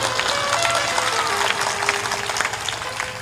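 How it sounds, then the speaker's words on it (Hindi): An audience claps loudly and steadily throughout at a night-time motivational talk, a dense wash of applause that stays at an even level, with crowd noise mixed in. "ताली जोर से बजाया करो"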